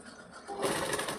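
A domestic sewing machine starts up and runs quickly while hemming the neckline of a blouse, a close whirring burst lasting under a second, with no talking.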